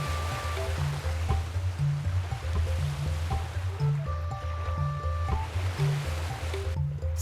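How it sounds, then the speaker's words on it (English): Elephants splashing in river water, a rhythmic series of wet sloshes and squishy thumps recurring every second or so, close and moderately loud with drips between, no talk. "We love to splash."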